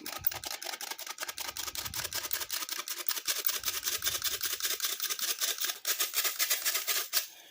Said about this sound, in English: we're going to sift the flour, panko crumbs, everything